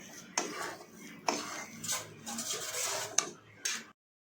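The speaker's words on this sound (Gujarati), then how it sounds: "આ રીતે મિક્સ કરી લેવાનું છે ગોળ અને જે લોટ છે તેને આપણે એકદમ ગેસ ધીમો રાખીને શેકવાનું છે" Wheat flour and jaggery being stirred in a pan for sukhadi over low heat, with repeated scraping and clinking strokes of a utensil against the pan, close and moderately quiet.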